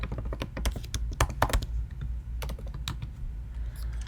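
Rapid typing on a computer keyboard, clicks coming in uneven bursts and pauses, close and clear with no talking.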